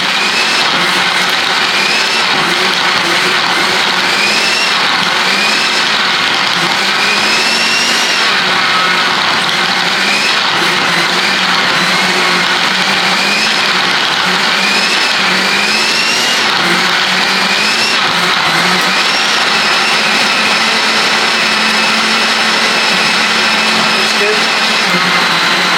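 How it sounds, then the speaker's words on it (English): A blender motor whirs loudly and steadily while crushing ice for a strawberry doughnut frappe, its pitch rising and dipping as big lumps of ice are churned, with a continuous grinding rattle close by. "There you can hear the difference now from the sound, so those big lumps of ice are not being chopped up"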